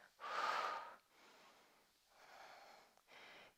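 Heavy breathing during a Pilates workout with resistance bands: one strong, forceful exhale near the start, then softer, steadier breaths in and out, close and clear with no talking.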